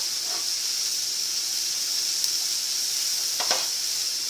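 Vegetables and bean sprouts sizzle steadily in a vegetarian stir fry, a continuous bright frying hiss with a couple of faint clicks and stirring scrapes, no talking.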